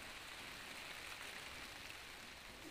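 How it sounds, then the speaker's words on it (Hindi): Steady rain falls outside a goat shed during the rainy season, a soft continuous broadband hiss with no distinct drops, fairly faint and unbroken throughout. "बाहर बारिश भी हो रहा है"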